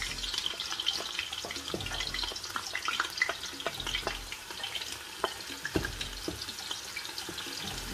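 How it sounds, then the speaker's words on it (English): Onions frying in red palm oil for egusi soup, a steady crackling sizzle with scattered sharp pops and spits throughout, close and continuous with no voices. "So what I'm going to be doing now is to add my onions to it."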